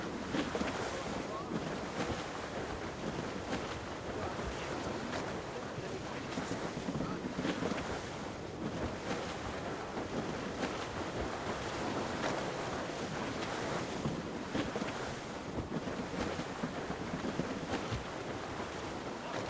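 A sailing ship in a rough squall at sea in Assassin's Creed Rogue: constant roaring wind and crashing waves, loud and unbroken, with faint shouting voices under the storm.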